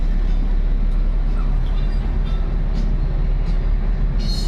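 A train rumbles past up close at a railway level crossing, a steady loud low roar with rail clatter throughout and brief hissing bursts near the end.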